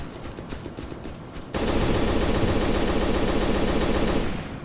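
Sustained, loud automatic gunfire in a dense rapid stream from the video game Operation Flashpoint: Dragon Rising, preceded by quieter background rumble, then cutting off near the end.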